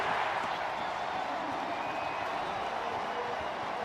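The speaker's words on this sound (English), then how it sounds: "If you can hear the crowd noise here" A roaring stadium crowd cheers at the end of an NFL home opener in Cincinnati, a dense, steady wash of noise that does not let up.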